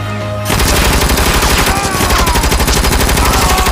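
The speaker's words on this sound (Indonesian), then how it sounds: "Wow, senjata laser, senjata mainan guys." A toy laser gun fires a loud, rapid, continuous buzzing burst of electronic shots after a brief tone, repeating evenly for over three seconds with no talking.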